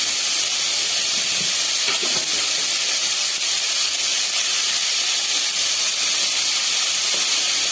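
Onions sauté lightly in a hot pan for kara kuzhi paniyaram, giving a constant close hiss and sizzle at an even level throughout, with no speech.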